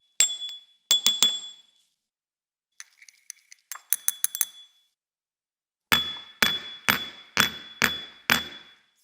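A metal spacer and pushing rod set into a die packed with superconductor powder make sharp metallic clinks and clangs, several quick clusters of ringing taps close up with silence between.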